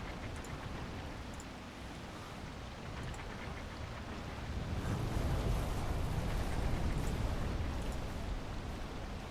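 Endless rain in the video game Wild Hearts, a steady hiss of downpour that swells heavier partway through and holds at a close, even roar.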